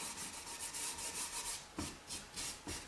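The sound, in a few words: steel wool rubbed over dark wax on chalk-painted wood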